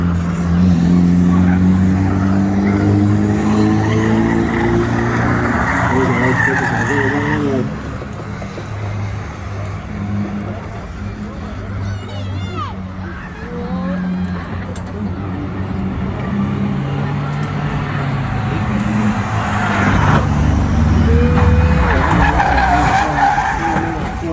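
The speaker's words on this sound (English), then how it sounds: "I've just been informed there's a Focus SD engine is in the A van." Loud, close engine roar of a banger-racing van with a Ford Focus engine at Lochgelly Raceway, rising and falling through gear changes with tyre squeal, mixed with crowd and commentary-like voices.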